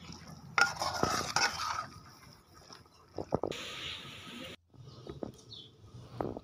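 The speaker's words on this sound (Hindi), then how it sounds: "अब इसके अंदर मैकरोनी डाल देंगे" Boiled, oiled macaroni tipped into a pan of masala while cooking chicken macaroni pizza, then stirred with scraping and soft sizzling in irregular bursts, a brief clatter near the middle, fairly close and moderate in level with no talking.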